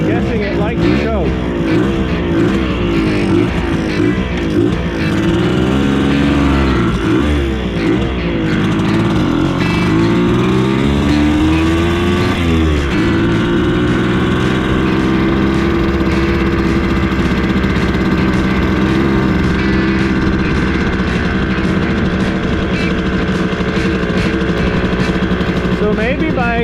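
A Bultaco Metralla two-stroke motorcycle engine runs close and loud throughout, its idle wavering and rising in uneven revs with a rattling undertone, while someone talks over it.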